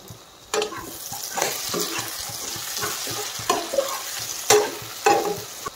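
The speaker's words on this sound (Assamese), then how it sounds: "মাংসখিনি পূৰা ফ্ৰাই হ'ব লাগিব" Duck meat for an Assamese duck and ash gourd curry sizzles in a pan, with repeated stirring scrapes and clatters over a steady frying hiss, close and fairly loud, with no talking.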